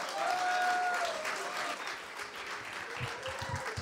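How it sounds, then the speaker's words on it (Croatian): A crowd at a music awards ceremony breaks into continuous loud applause that holds steady and gradually thins, with a faint voice mixed in early on. "Molim vas veliki aplauz za Donisa Dukovsovića"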